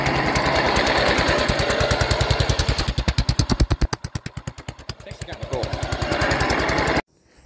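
A lawn mower engine, a Simplicity, runs loudly through an old jack handle used as exhaust, giving rapid harsh popping pulses that slow and sputter before cutting off abruptly.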